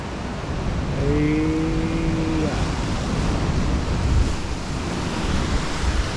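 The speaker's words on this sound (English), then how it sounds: "Big swell. Watch this one come in too." Big ocean swell surging and washing against coastal rocks, a steady broad roar close by with wind buffeting the microphone and a brief faint tonal whine early on.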